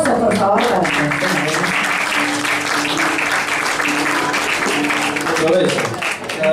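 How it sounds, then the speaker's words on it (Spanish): Audience applause for a guest called up at a Buenos Aires billiards-hall show, a dense, steady clapping that fills the room throughout, with voices and crowd noise mixed in. "Aplausos, por favor, para la gente"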